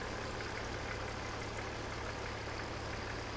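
A 1993 Toyota Land Cruiser 70 Series ZX diesel engine idling with a steady, even low rumble and a constant hum, heard close and alone without any voices.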